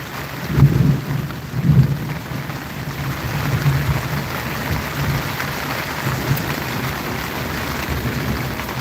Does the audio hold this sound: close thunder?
yes